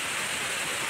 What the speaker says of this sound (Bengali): আর বৃষ্টিও পড়ছে, একটা দুপুরে করে বৃষ্টি পড়ছে।